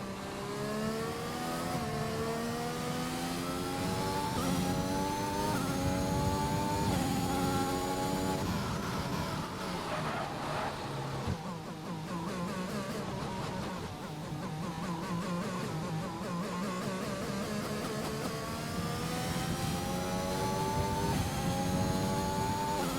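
Racing car engine at full throttle in a sim racing league event at the China circuit on soft tyres, a continuous buzzing high-revving whine with rising pitch sweeps through gear changes, loud and steady with no talk.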